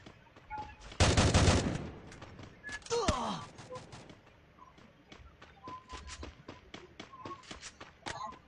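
Rapid gunfire bursts in the video game Free Fire, a loud dense volley early on followed by scattered single shots and softer clicks at a moderate level.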